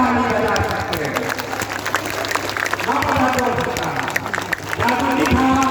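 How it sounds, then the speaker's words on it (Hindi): Crowd applause at a political rally at Matihani High School, Aurai, Muzaffarpur in Bihar, as scattered clapping runs beneath a man's amplified speech throughout. "अब ताली बजा सकते हैं।"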